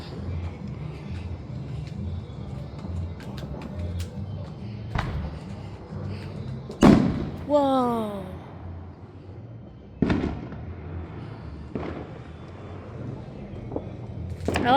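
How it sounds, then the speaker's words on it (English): New Year fireworks burst outdoors on a cold night: a low crackling rumble, several loud booms spaced a few seconds apart, one with a whistling tail. A person exclaims and voices are heard nearby. "I like all the fireworks around this part."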